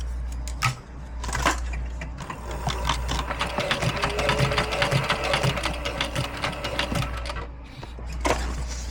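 A Cobra Class 4 sewing machine stitches leather ammo loops, its motor humming steadily under a fast, even rattle of needle strokes, briefly pausing before resuming.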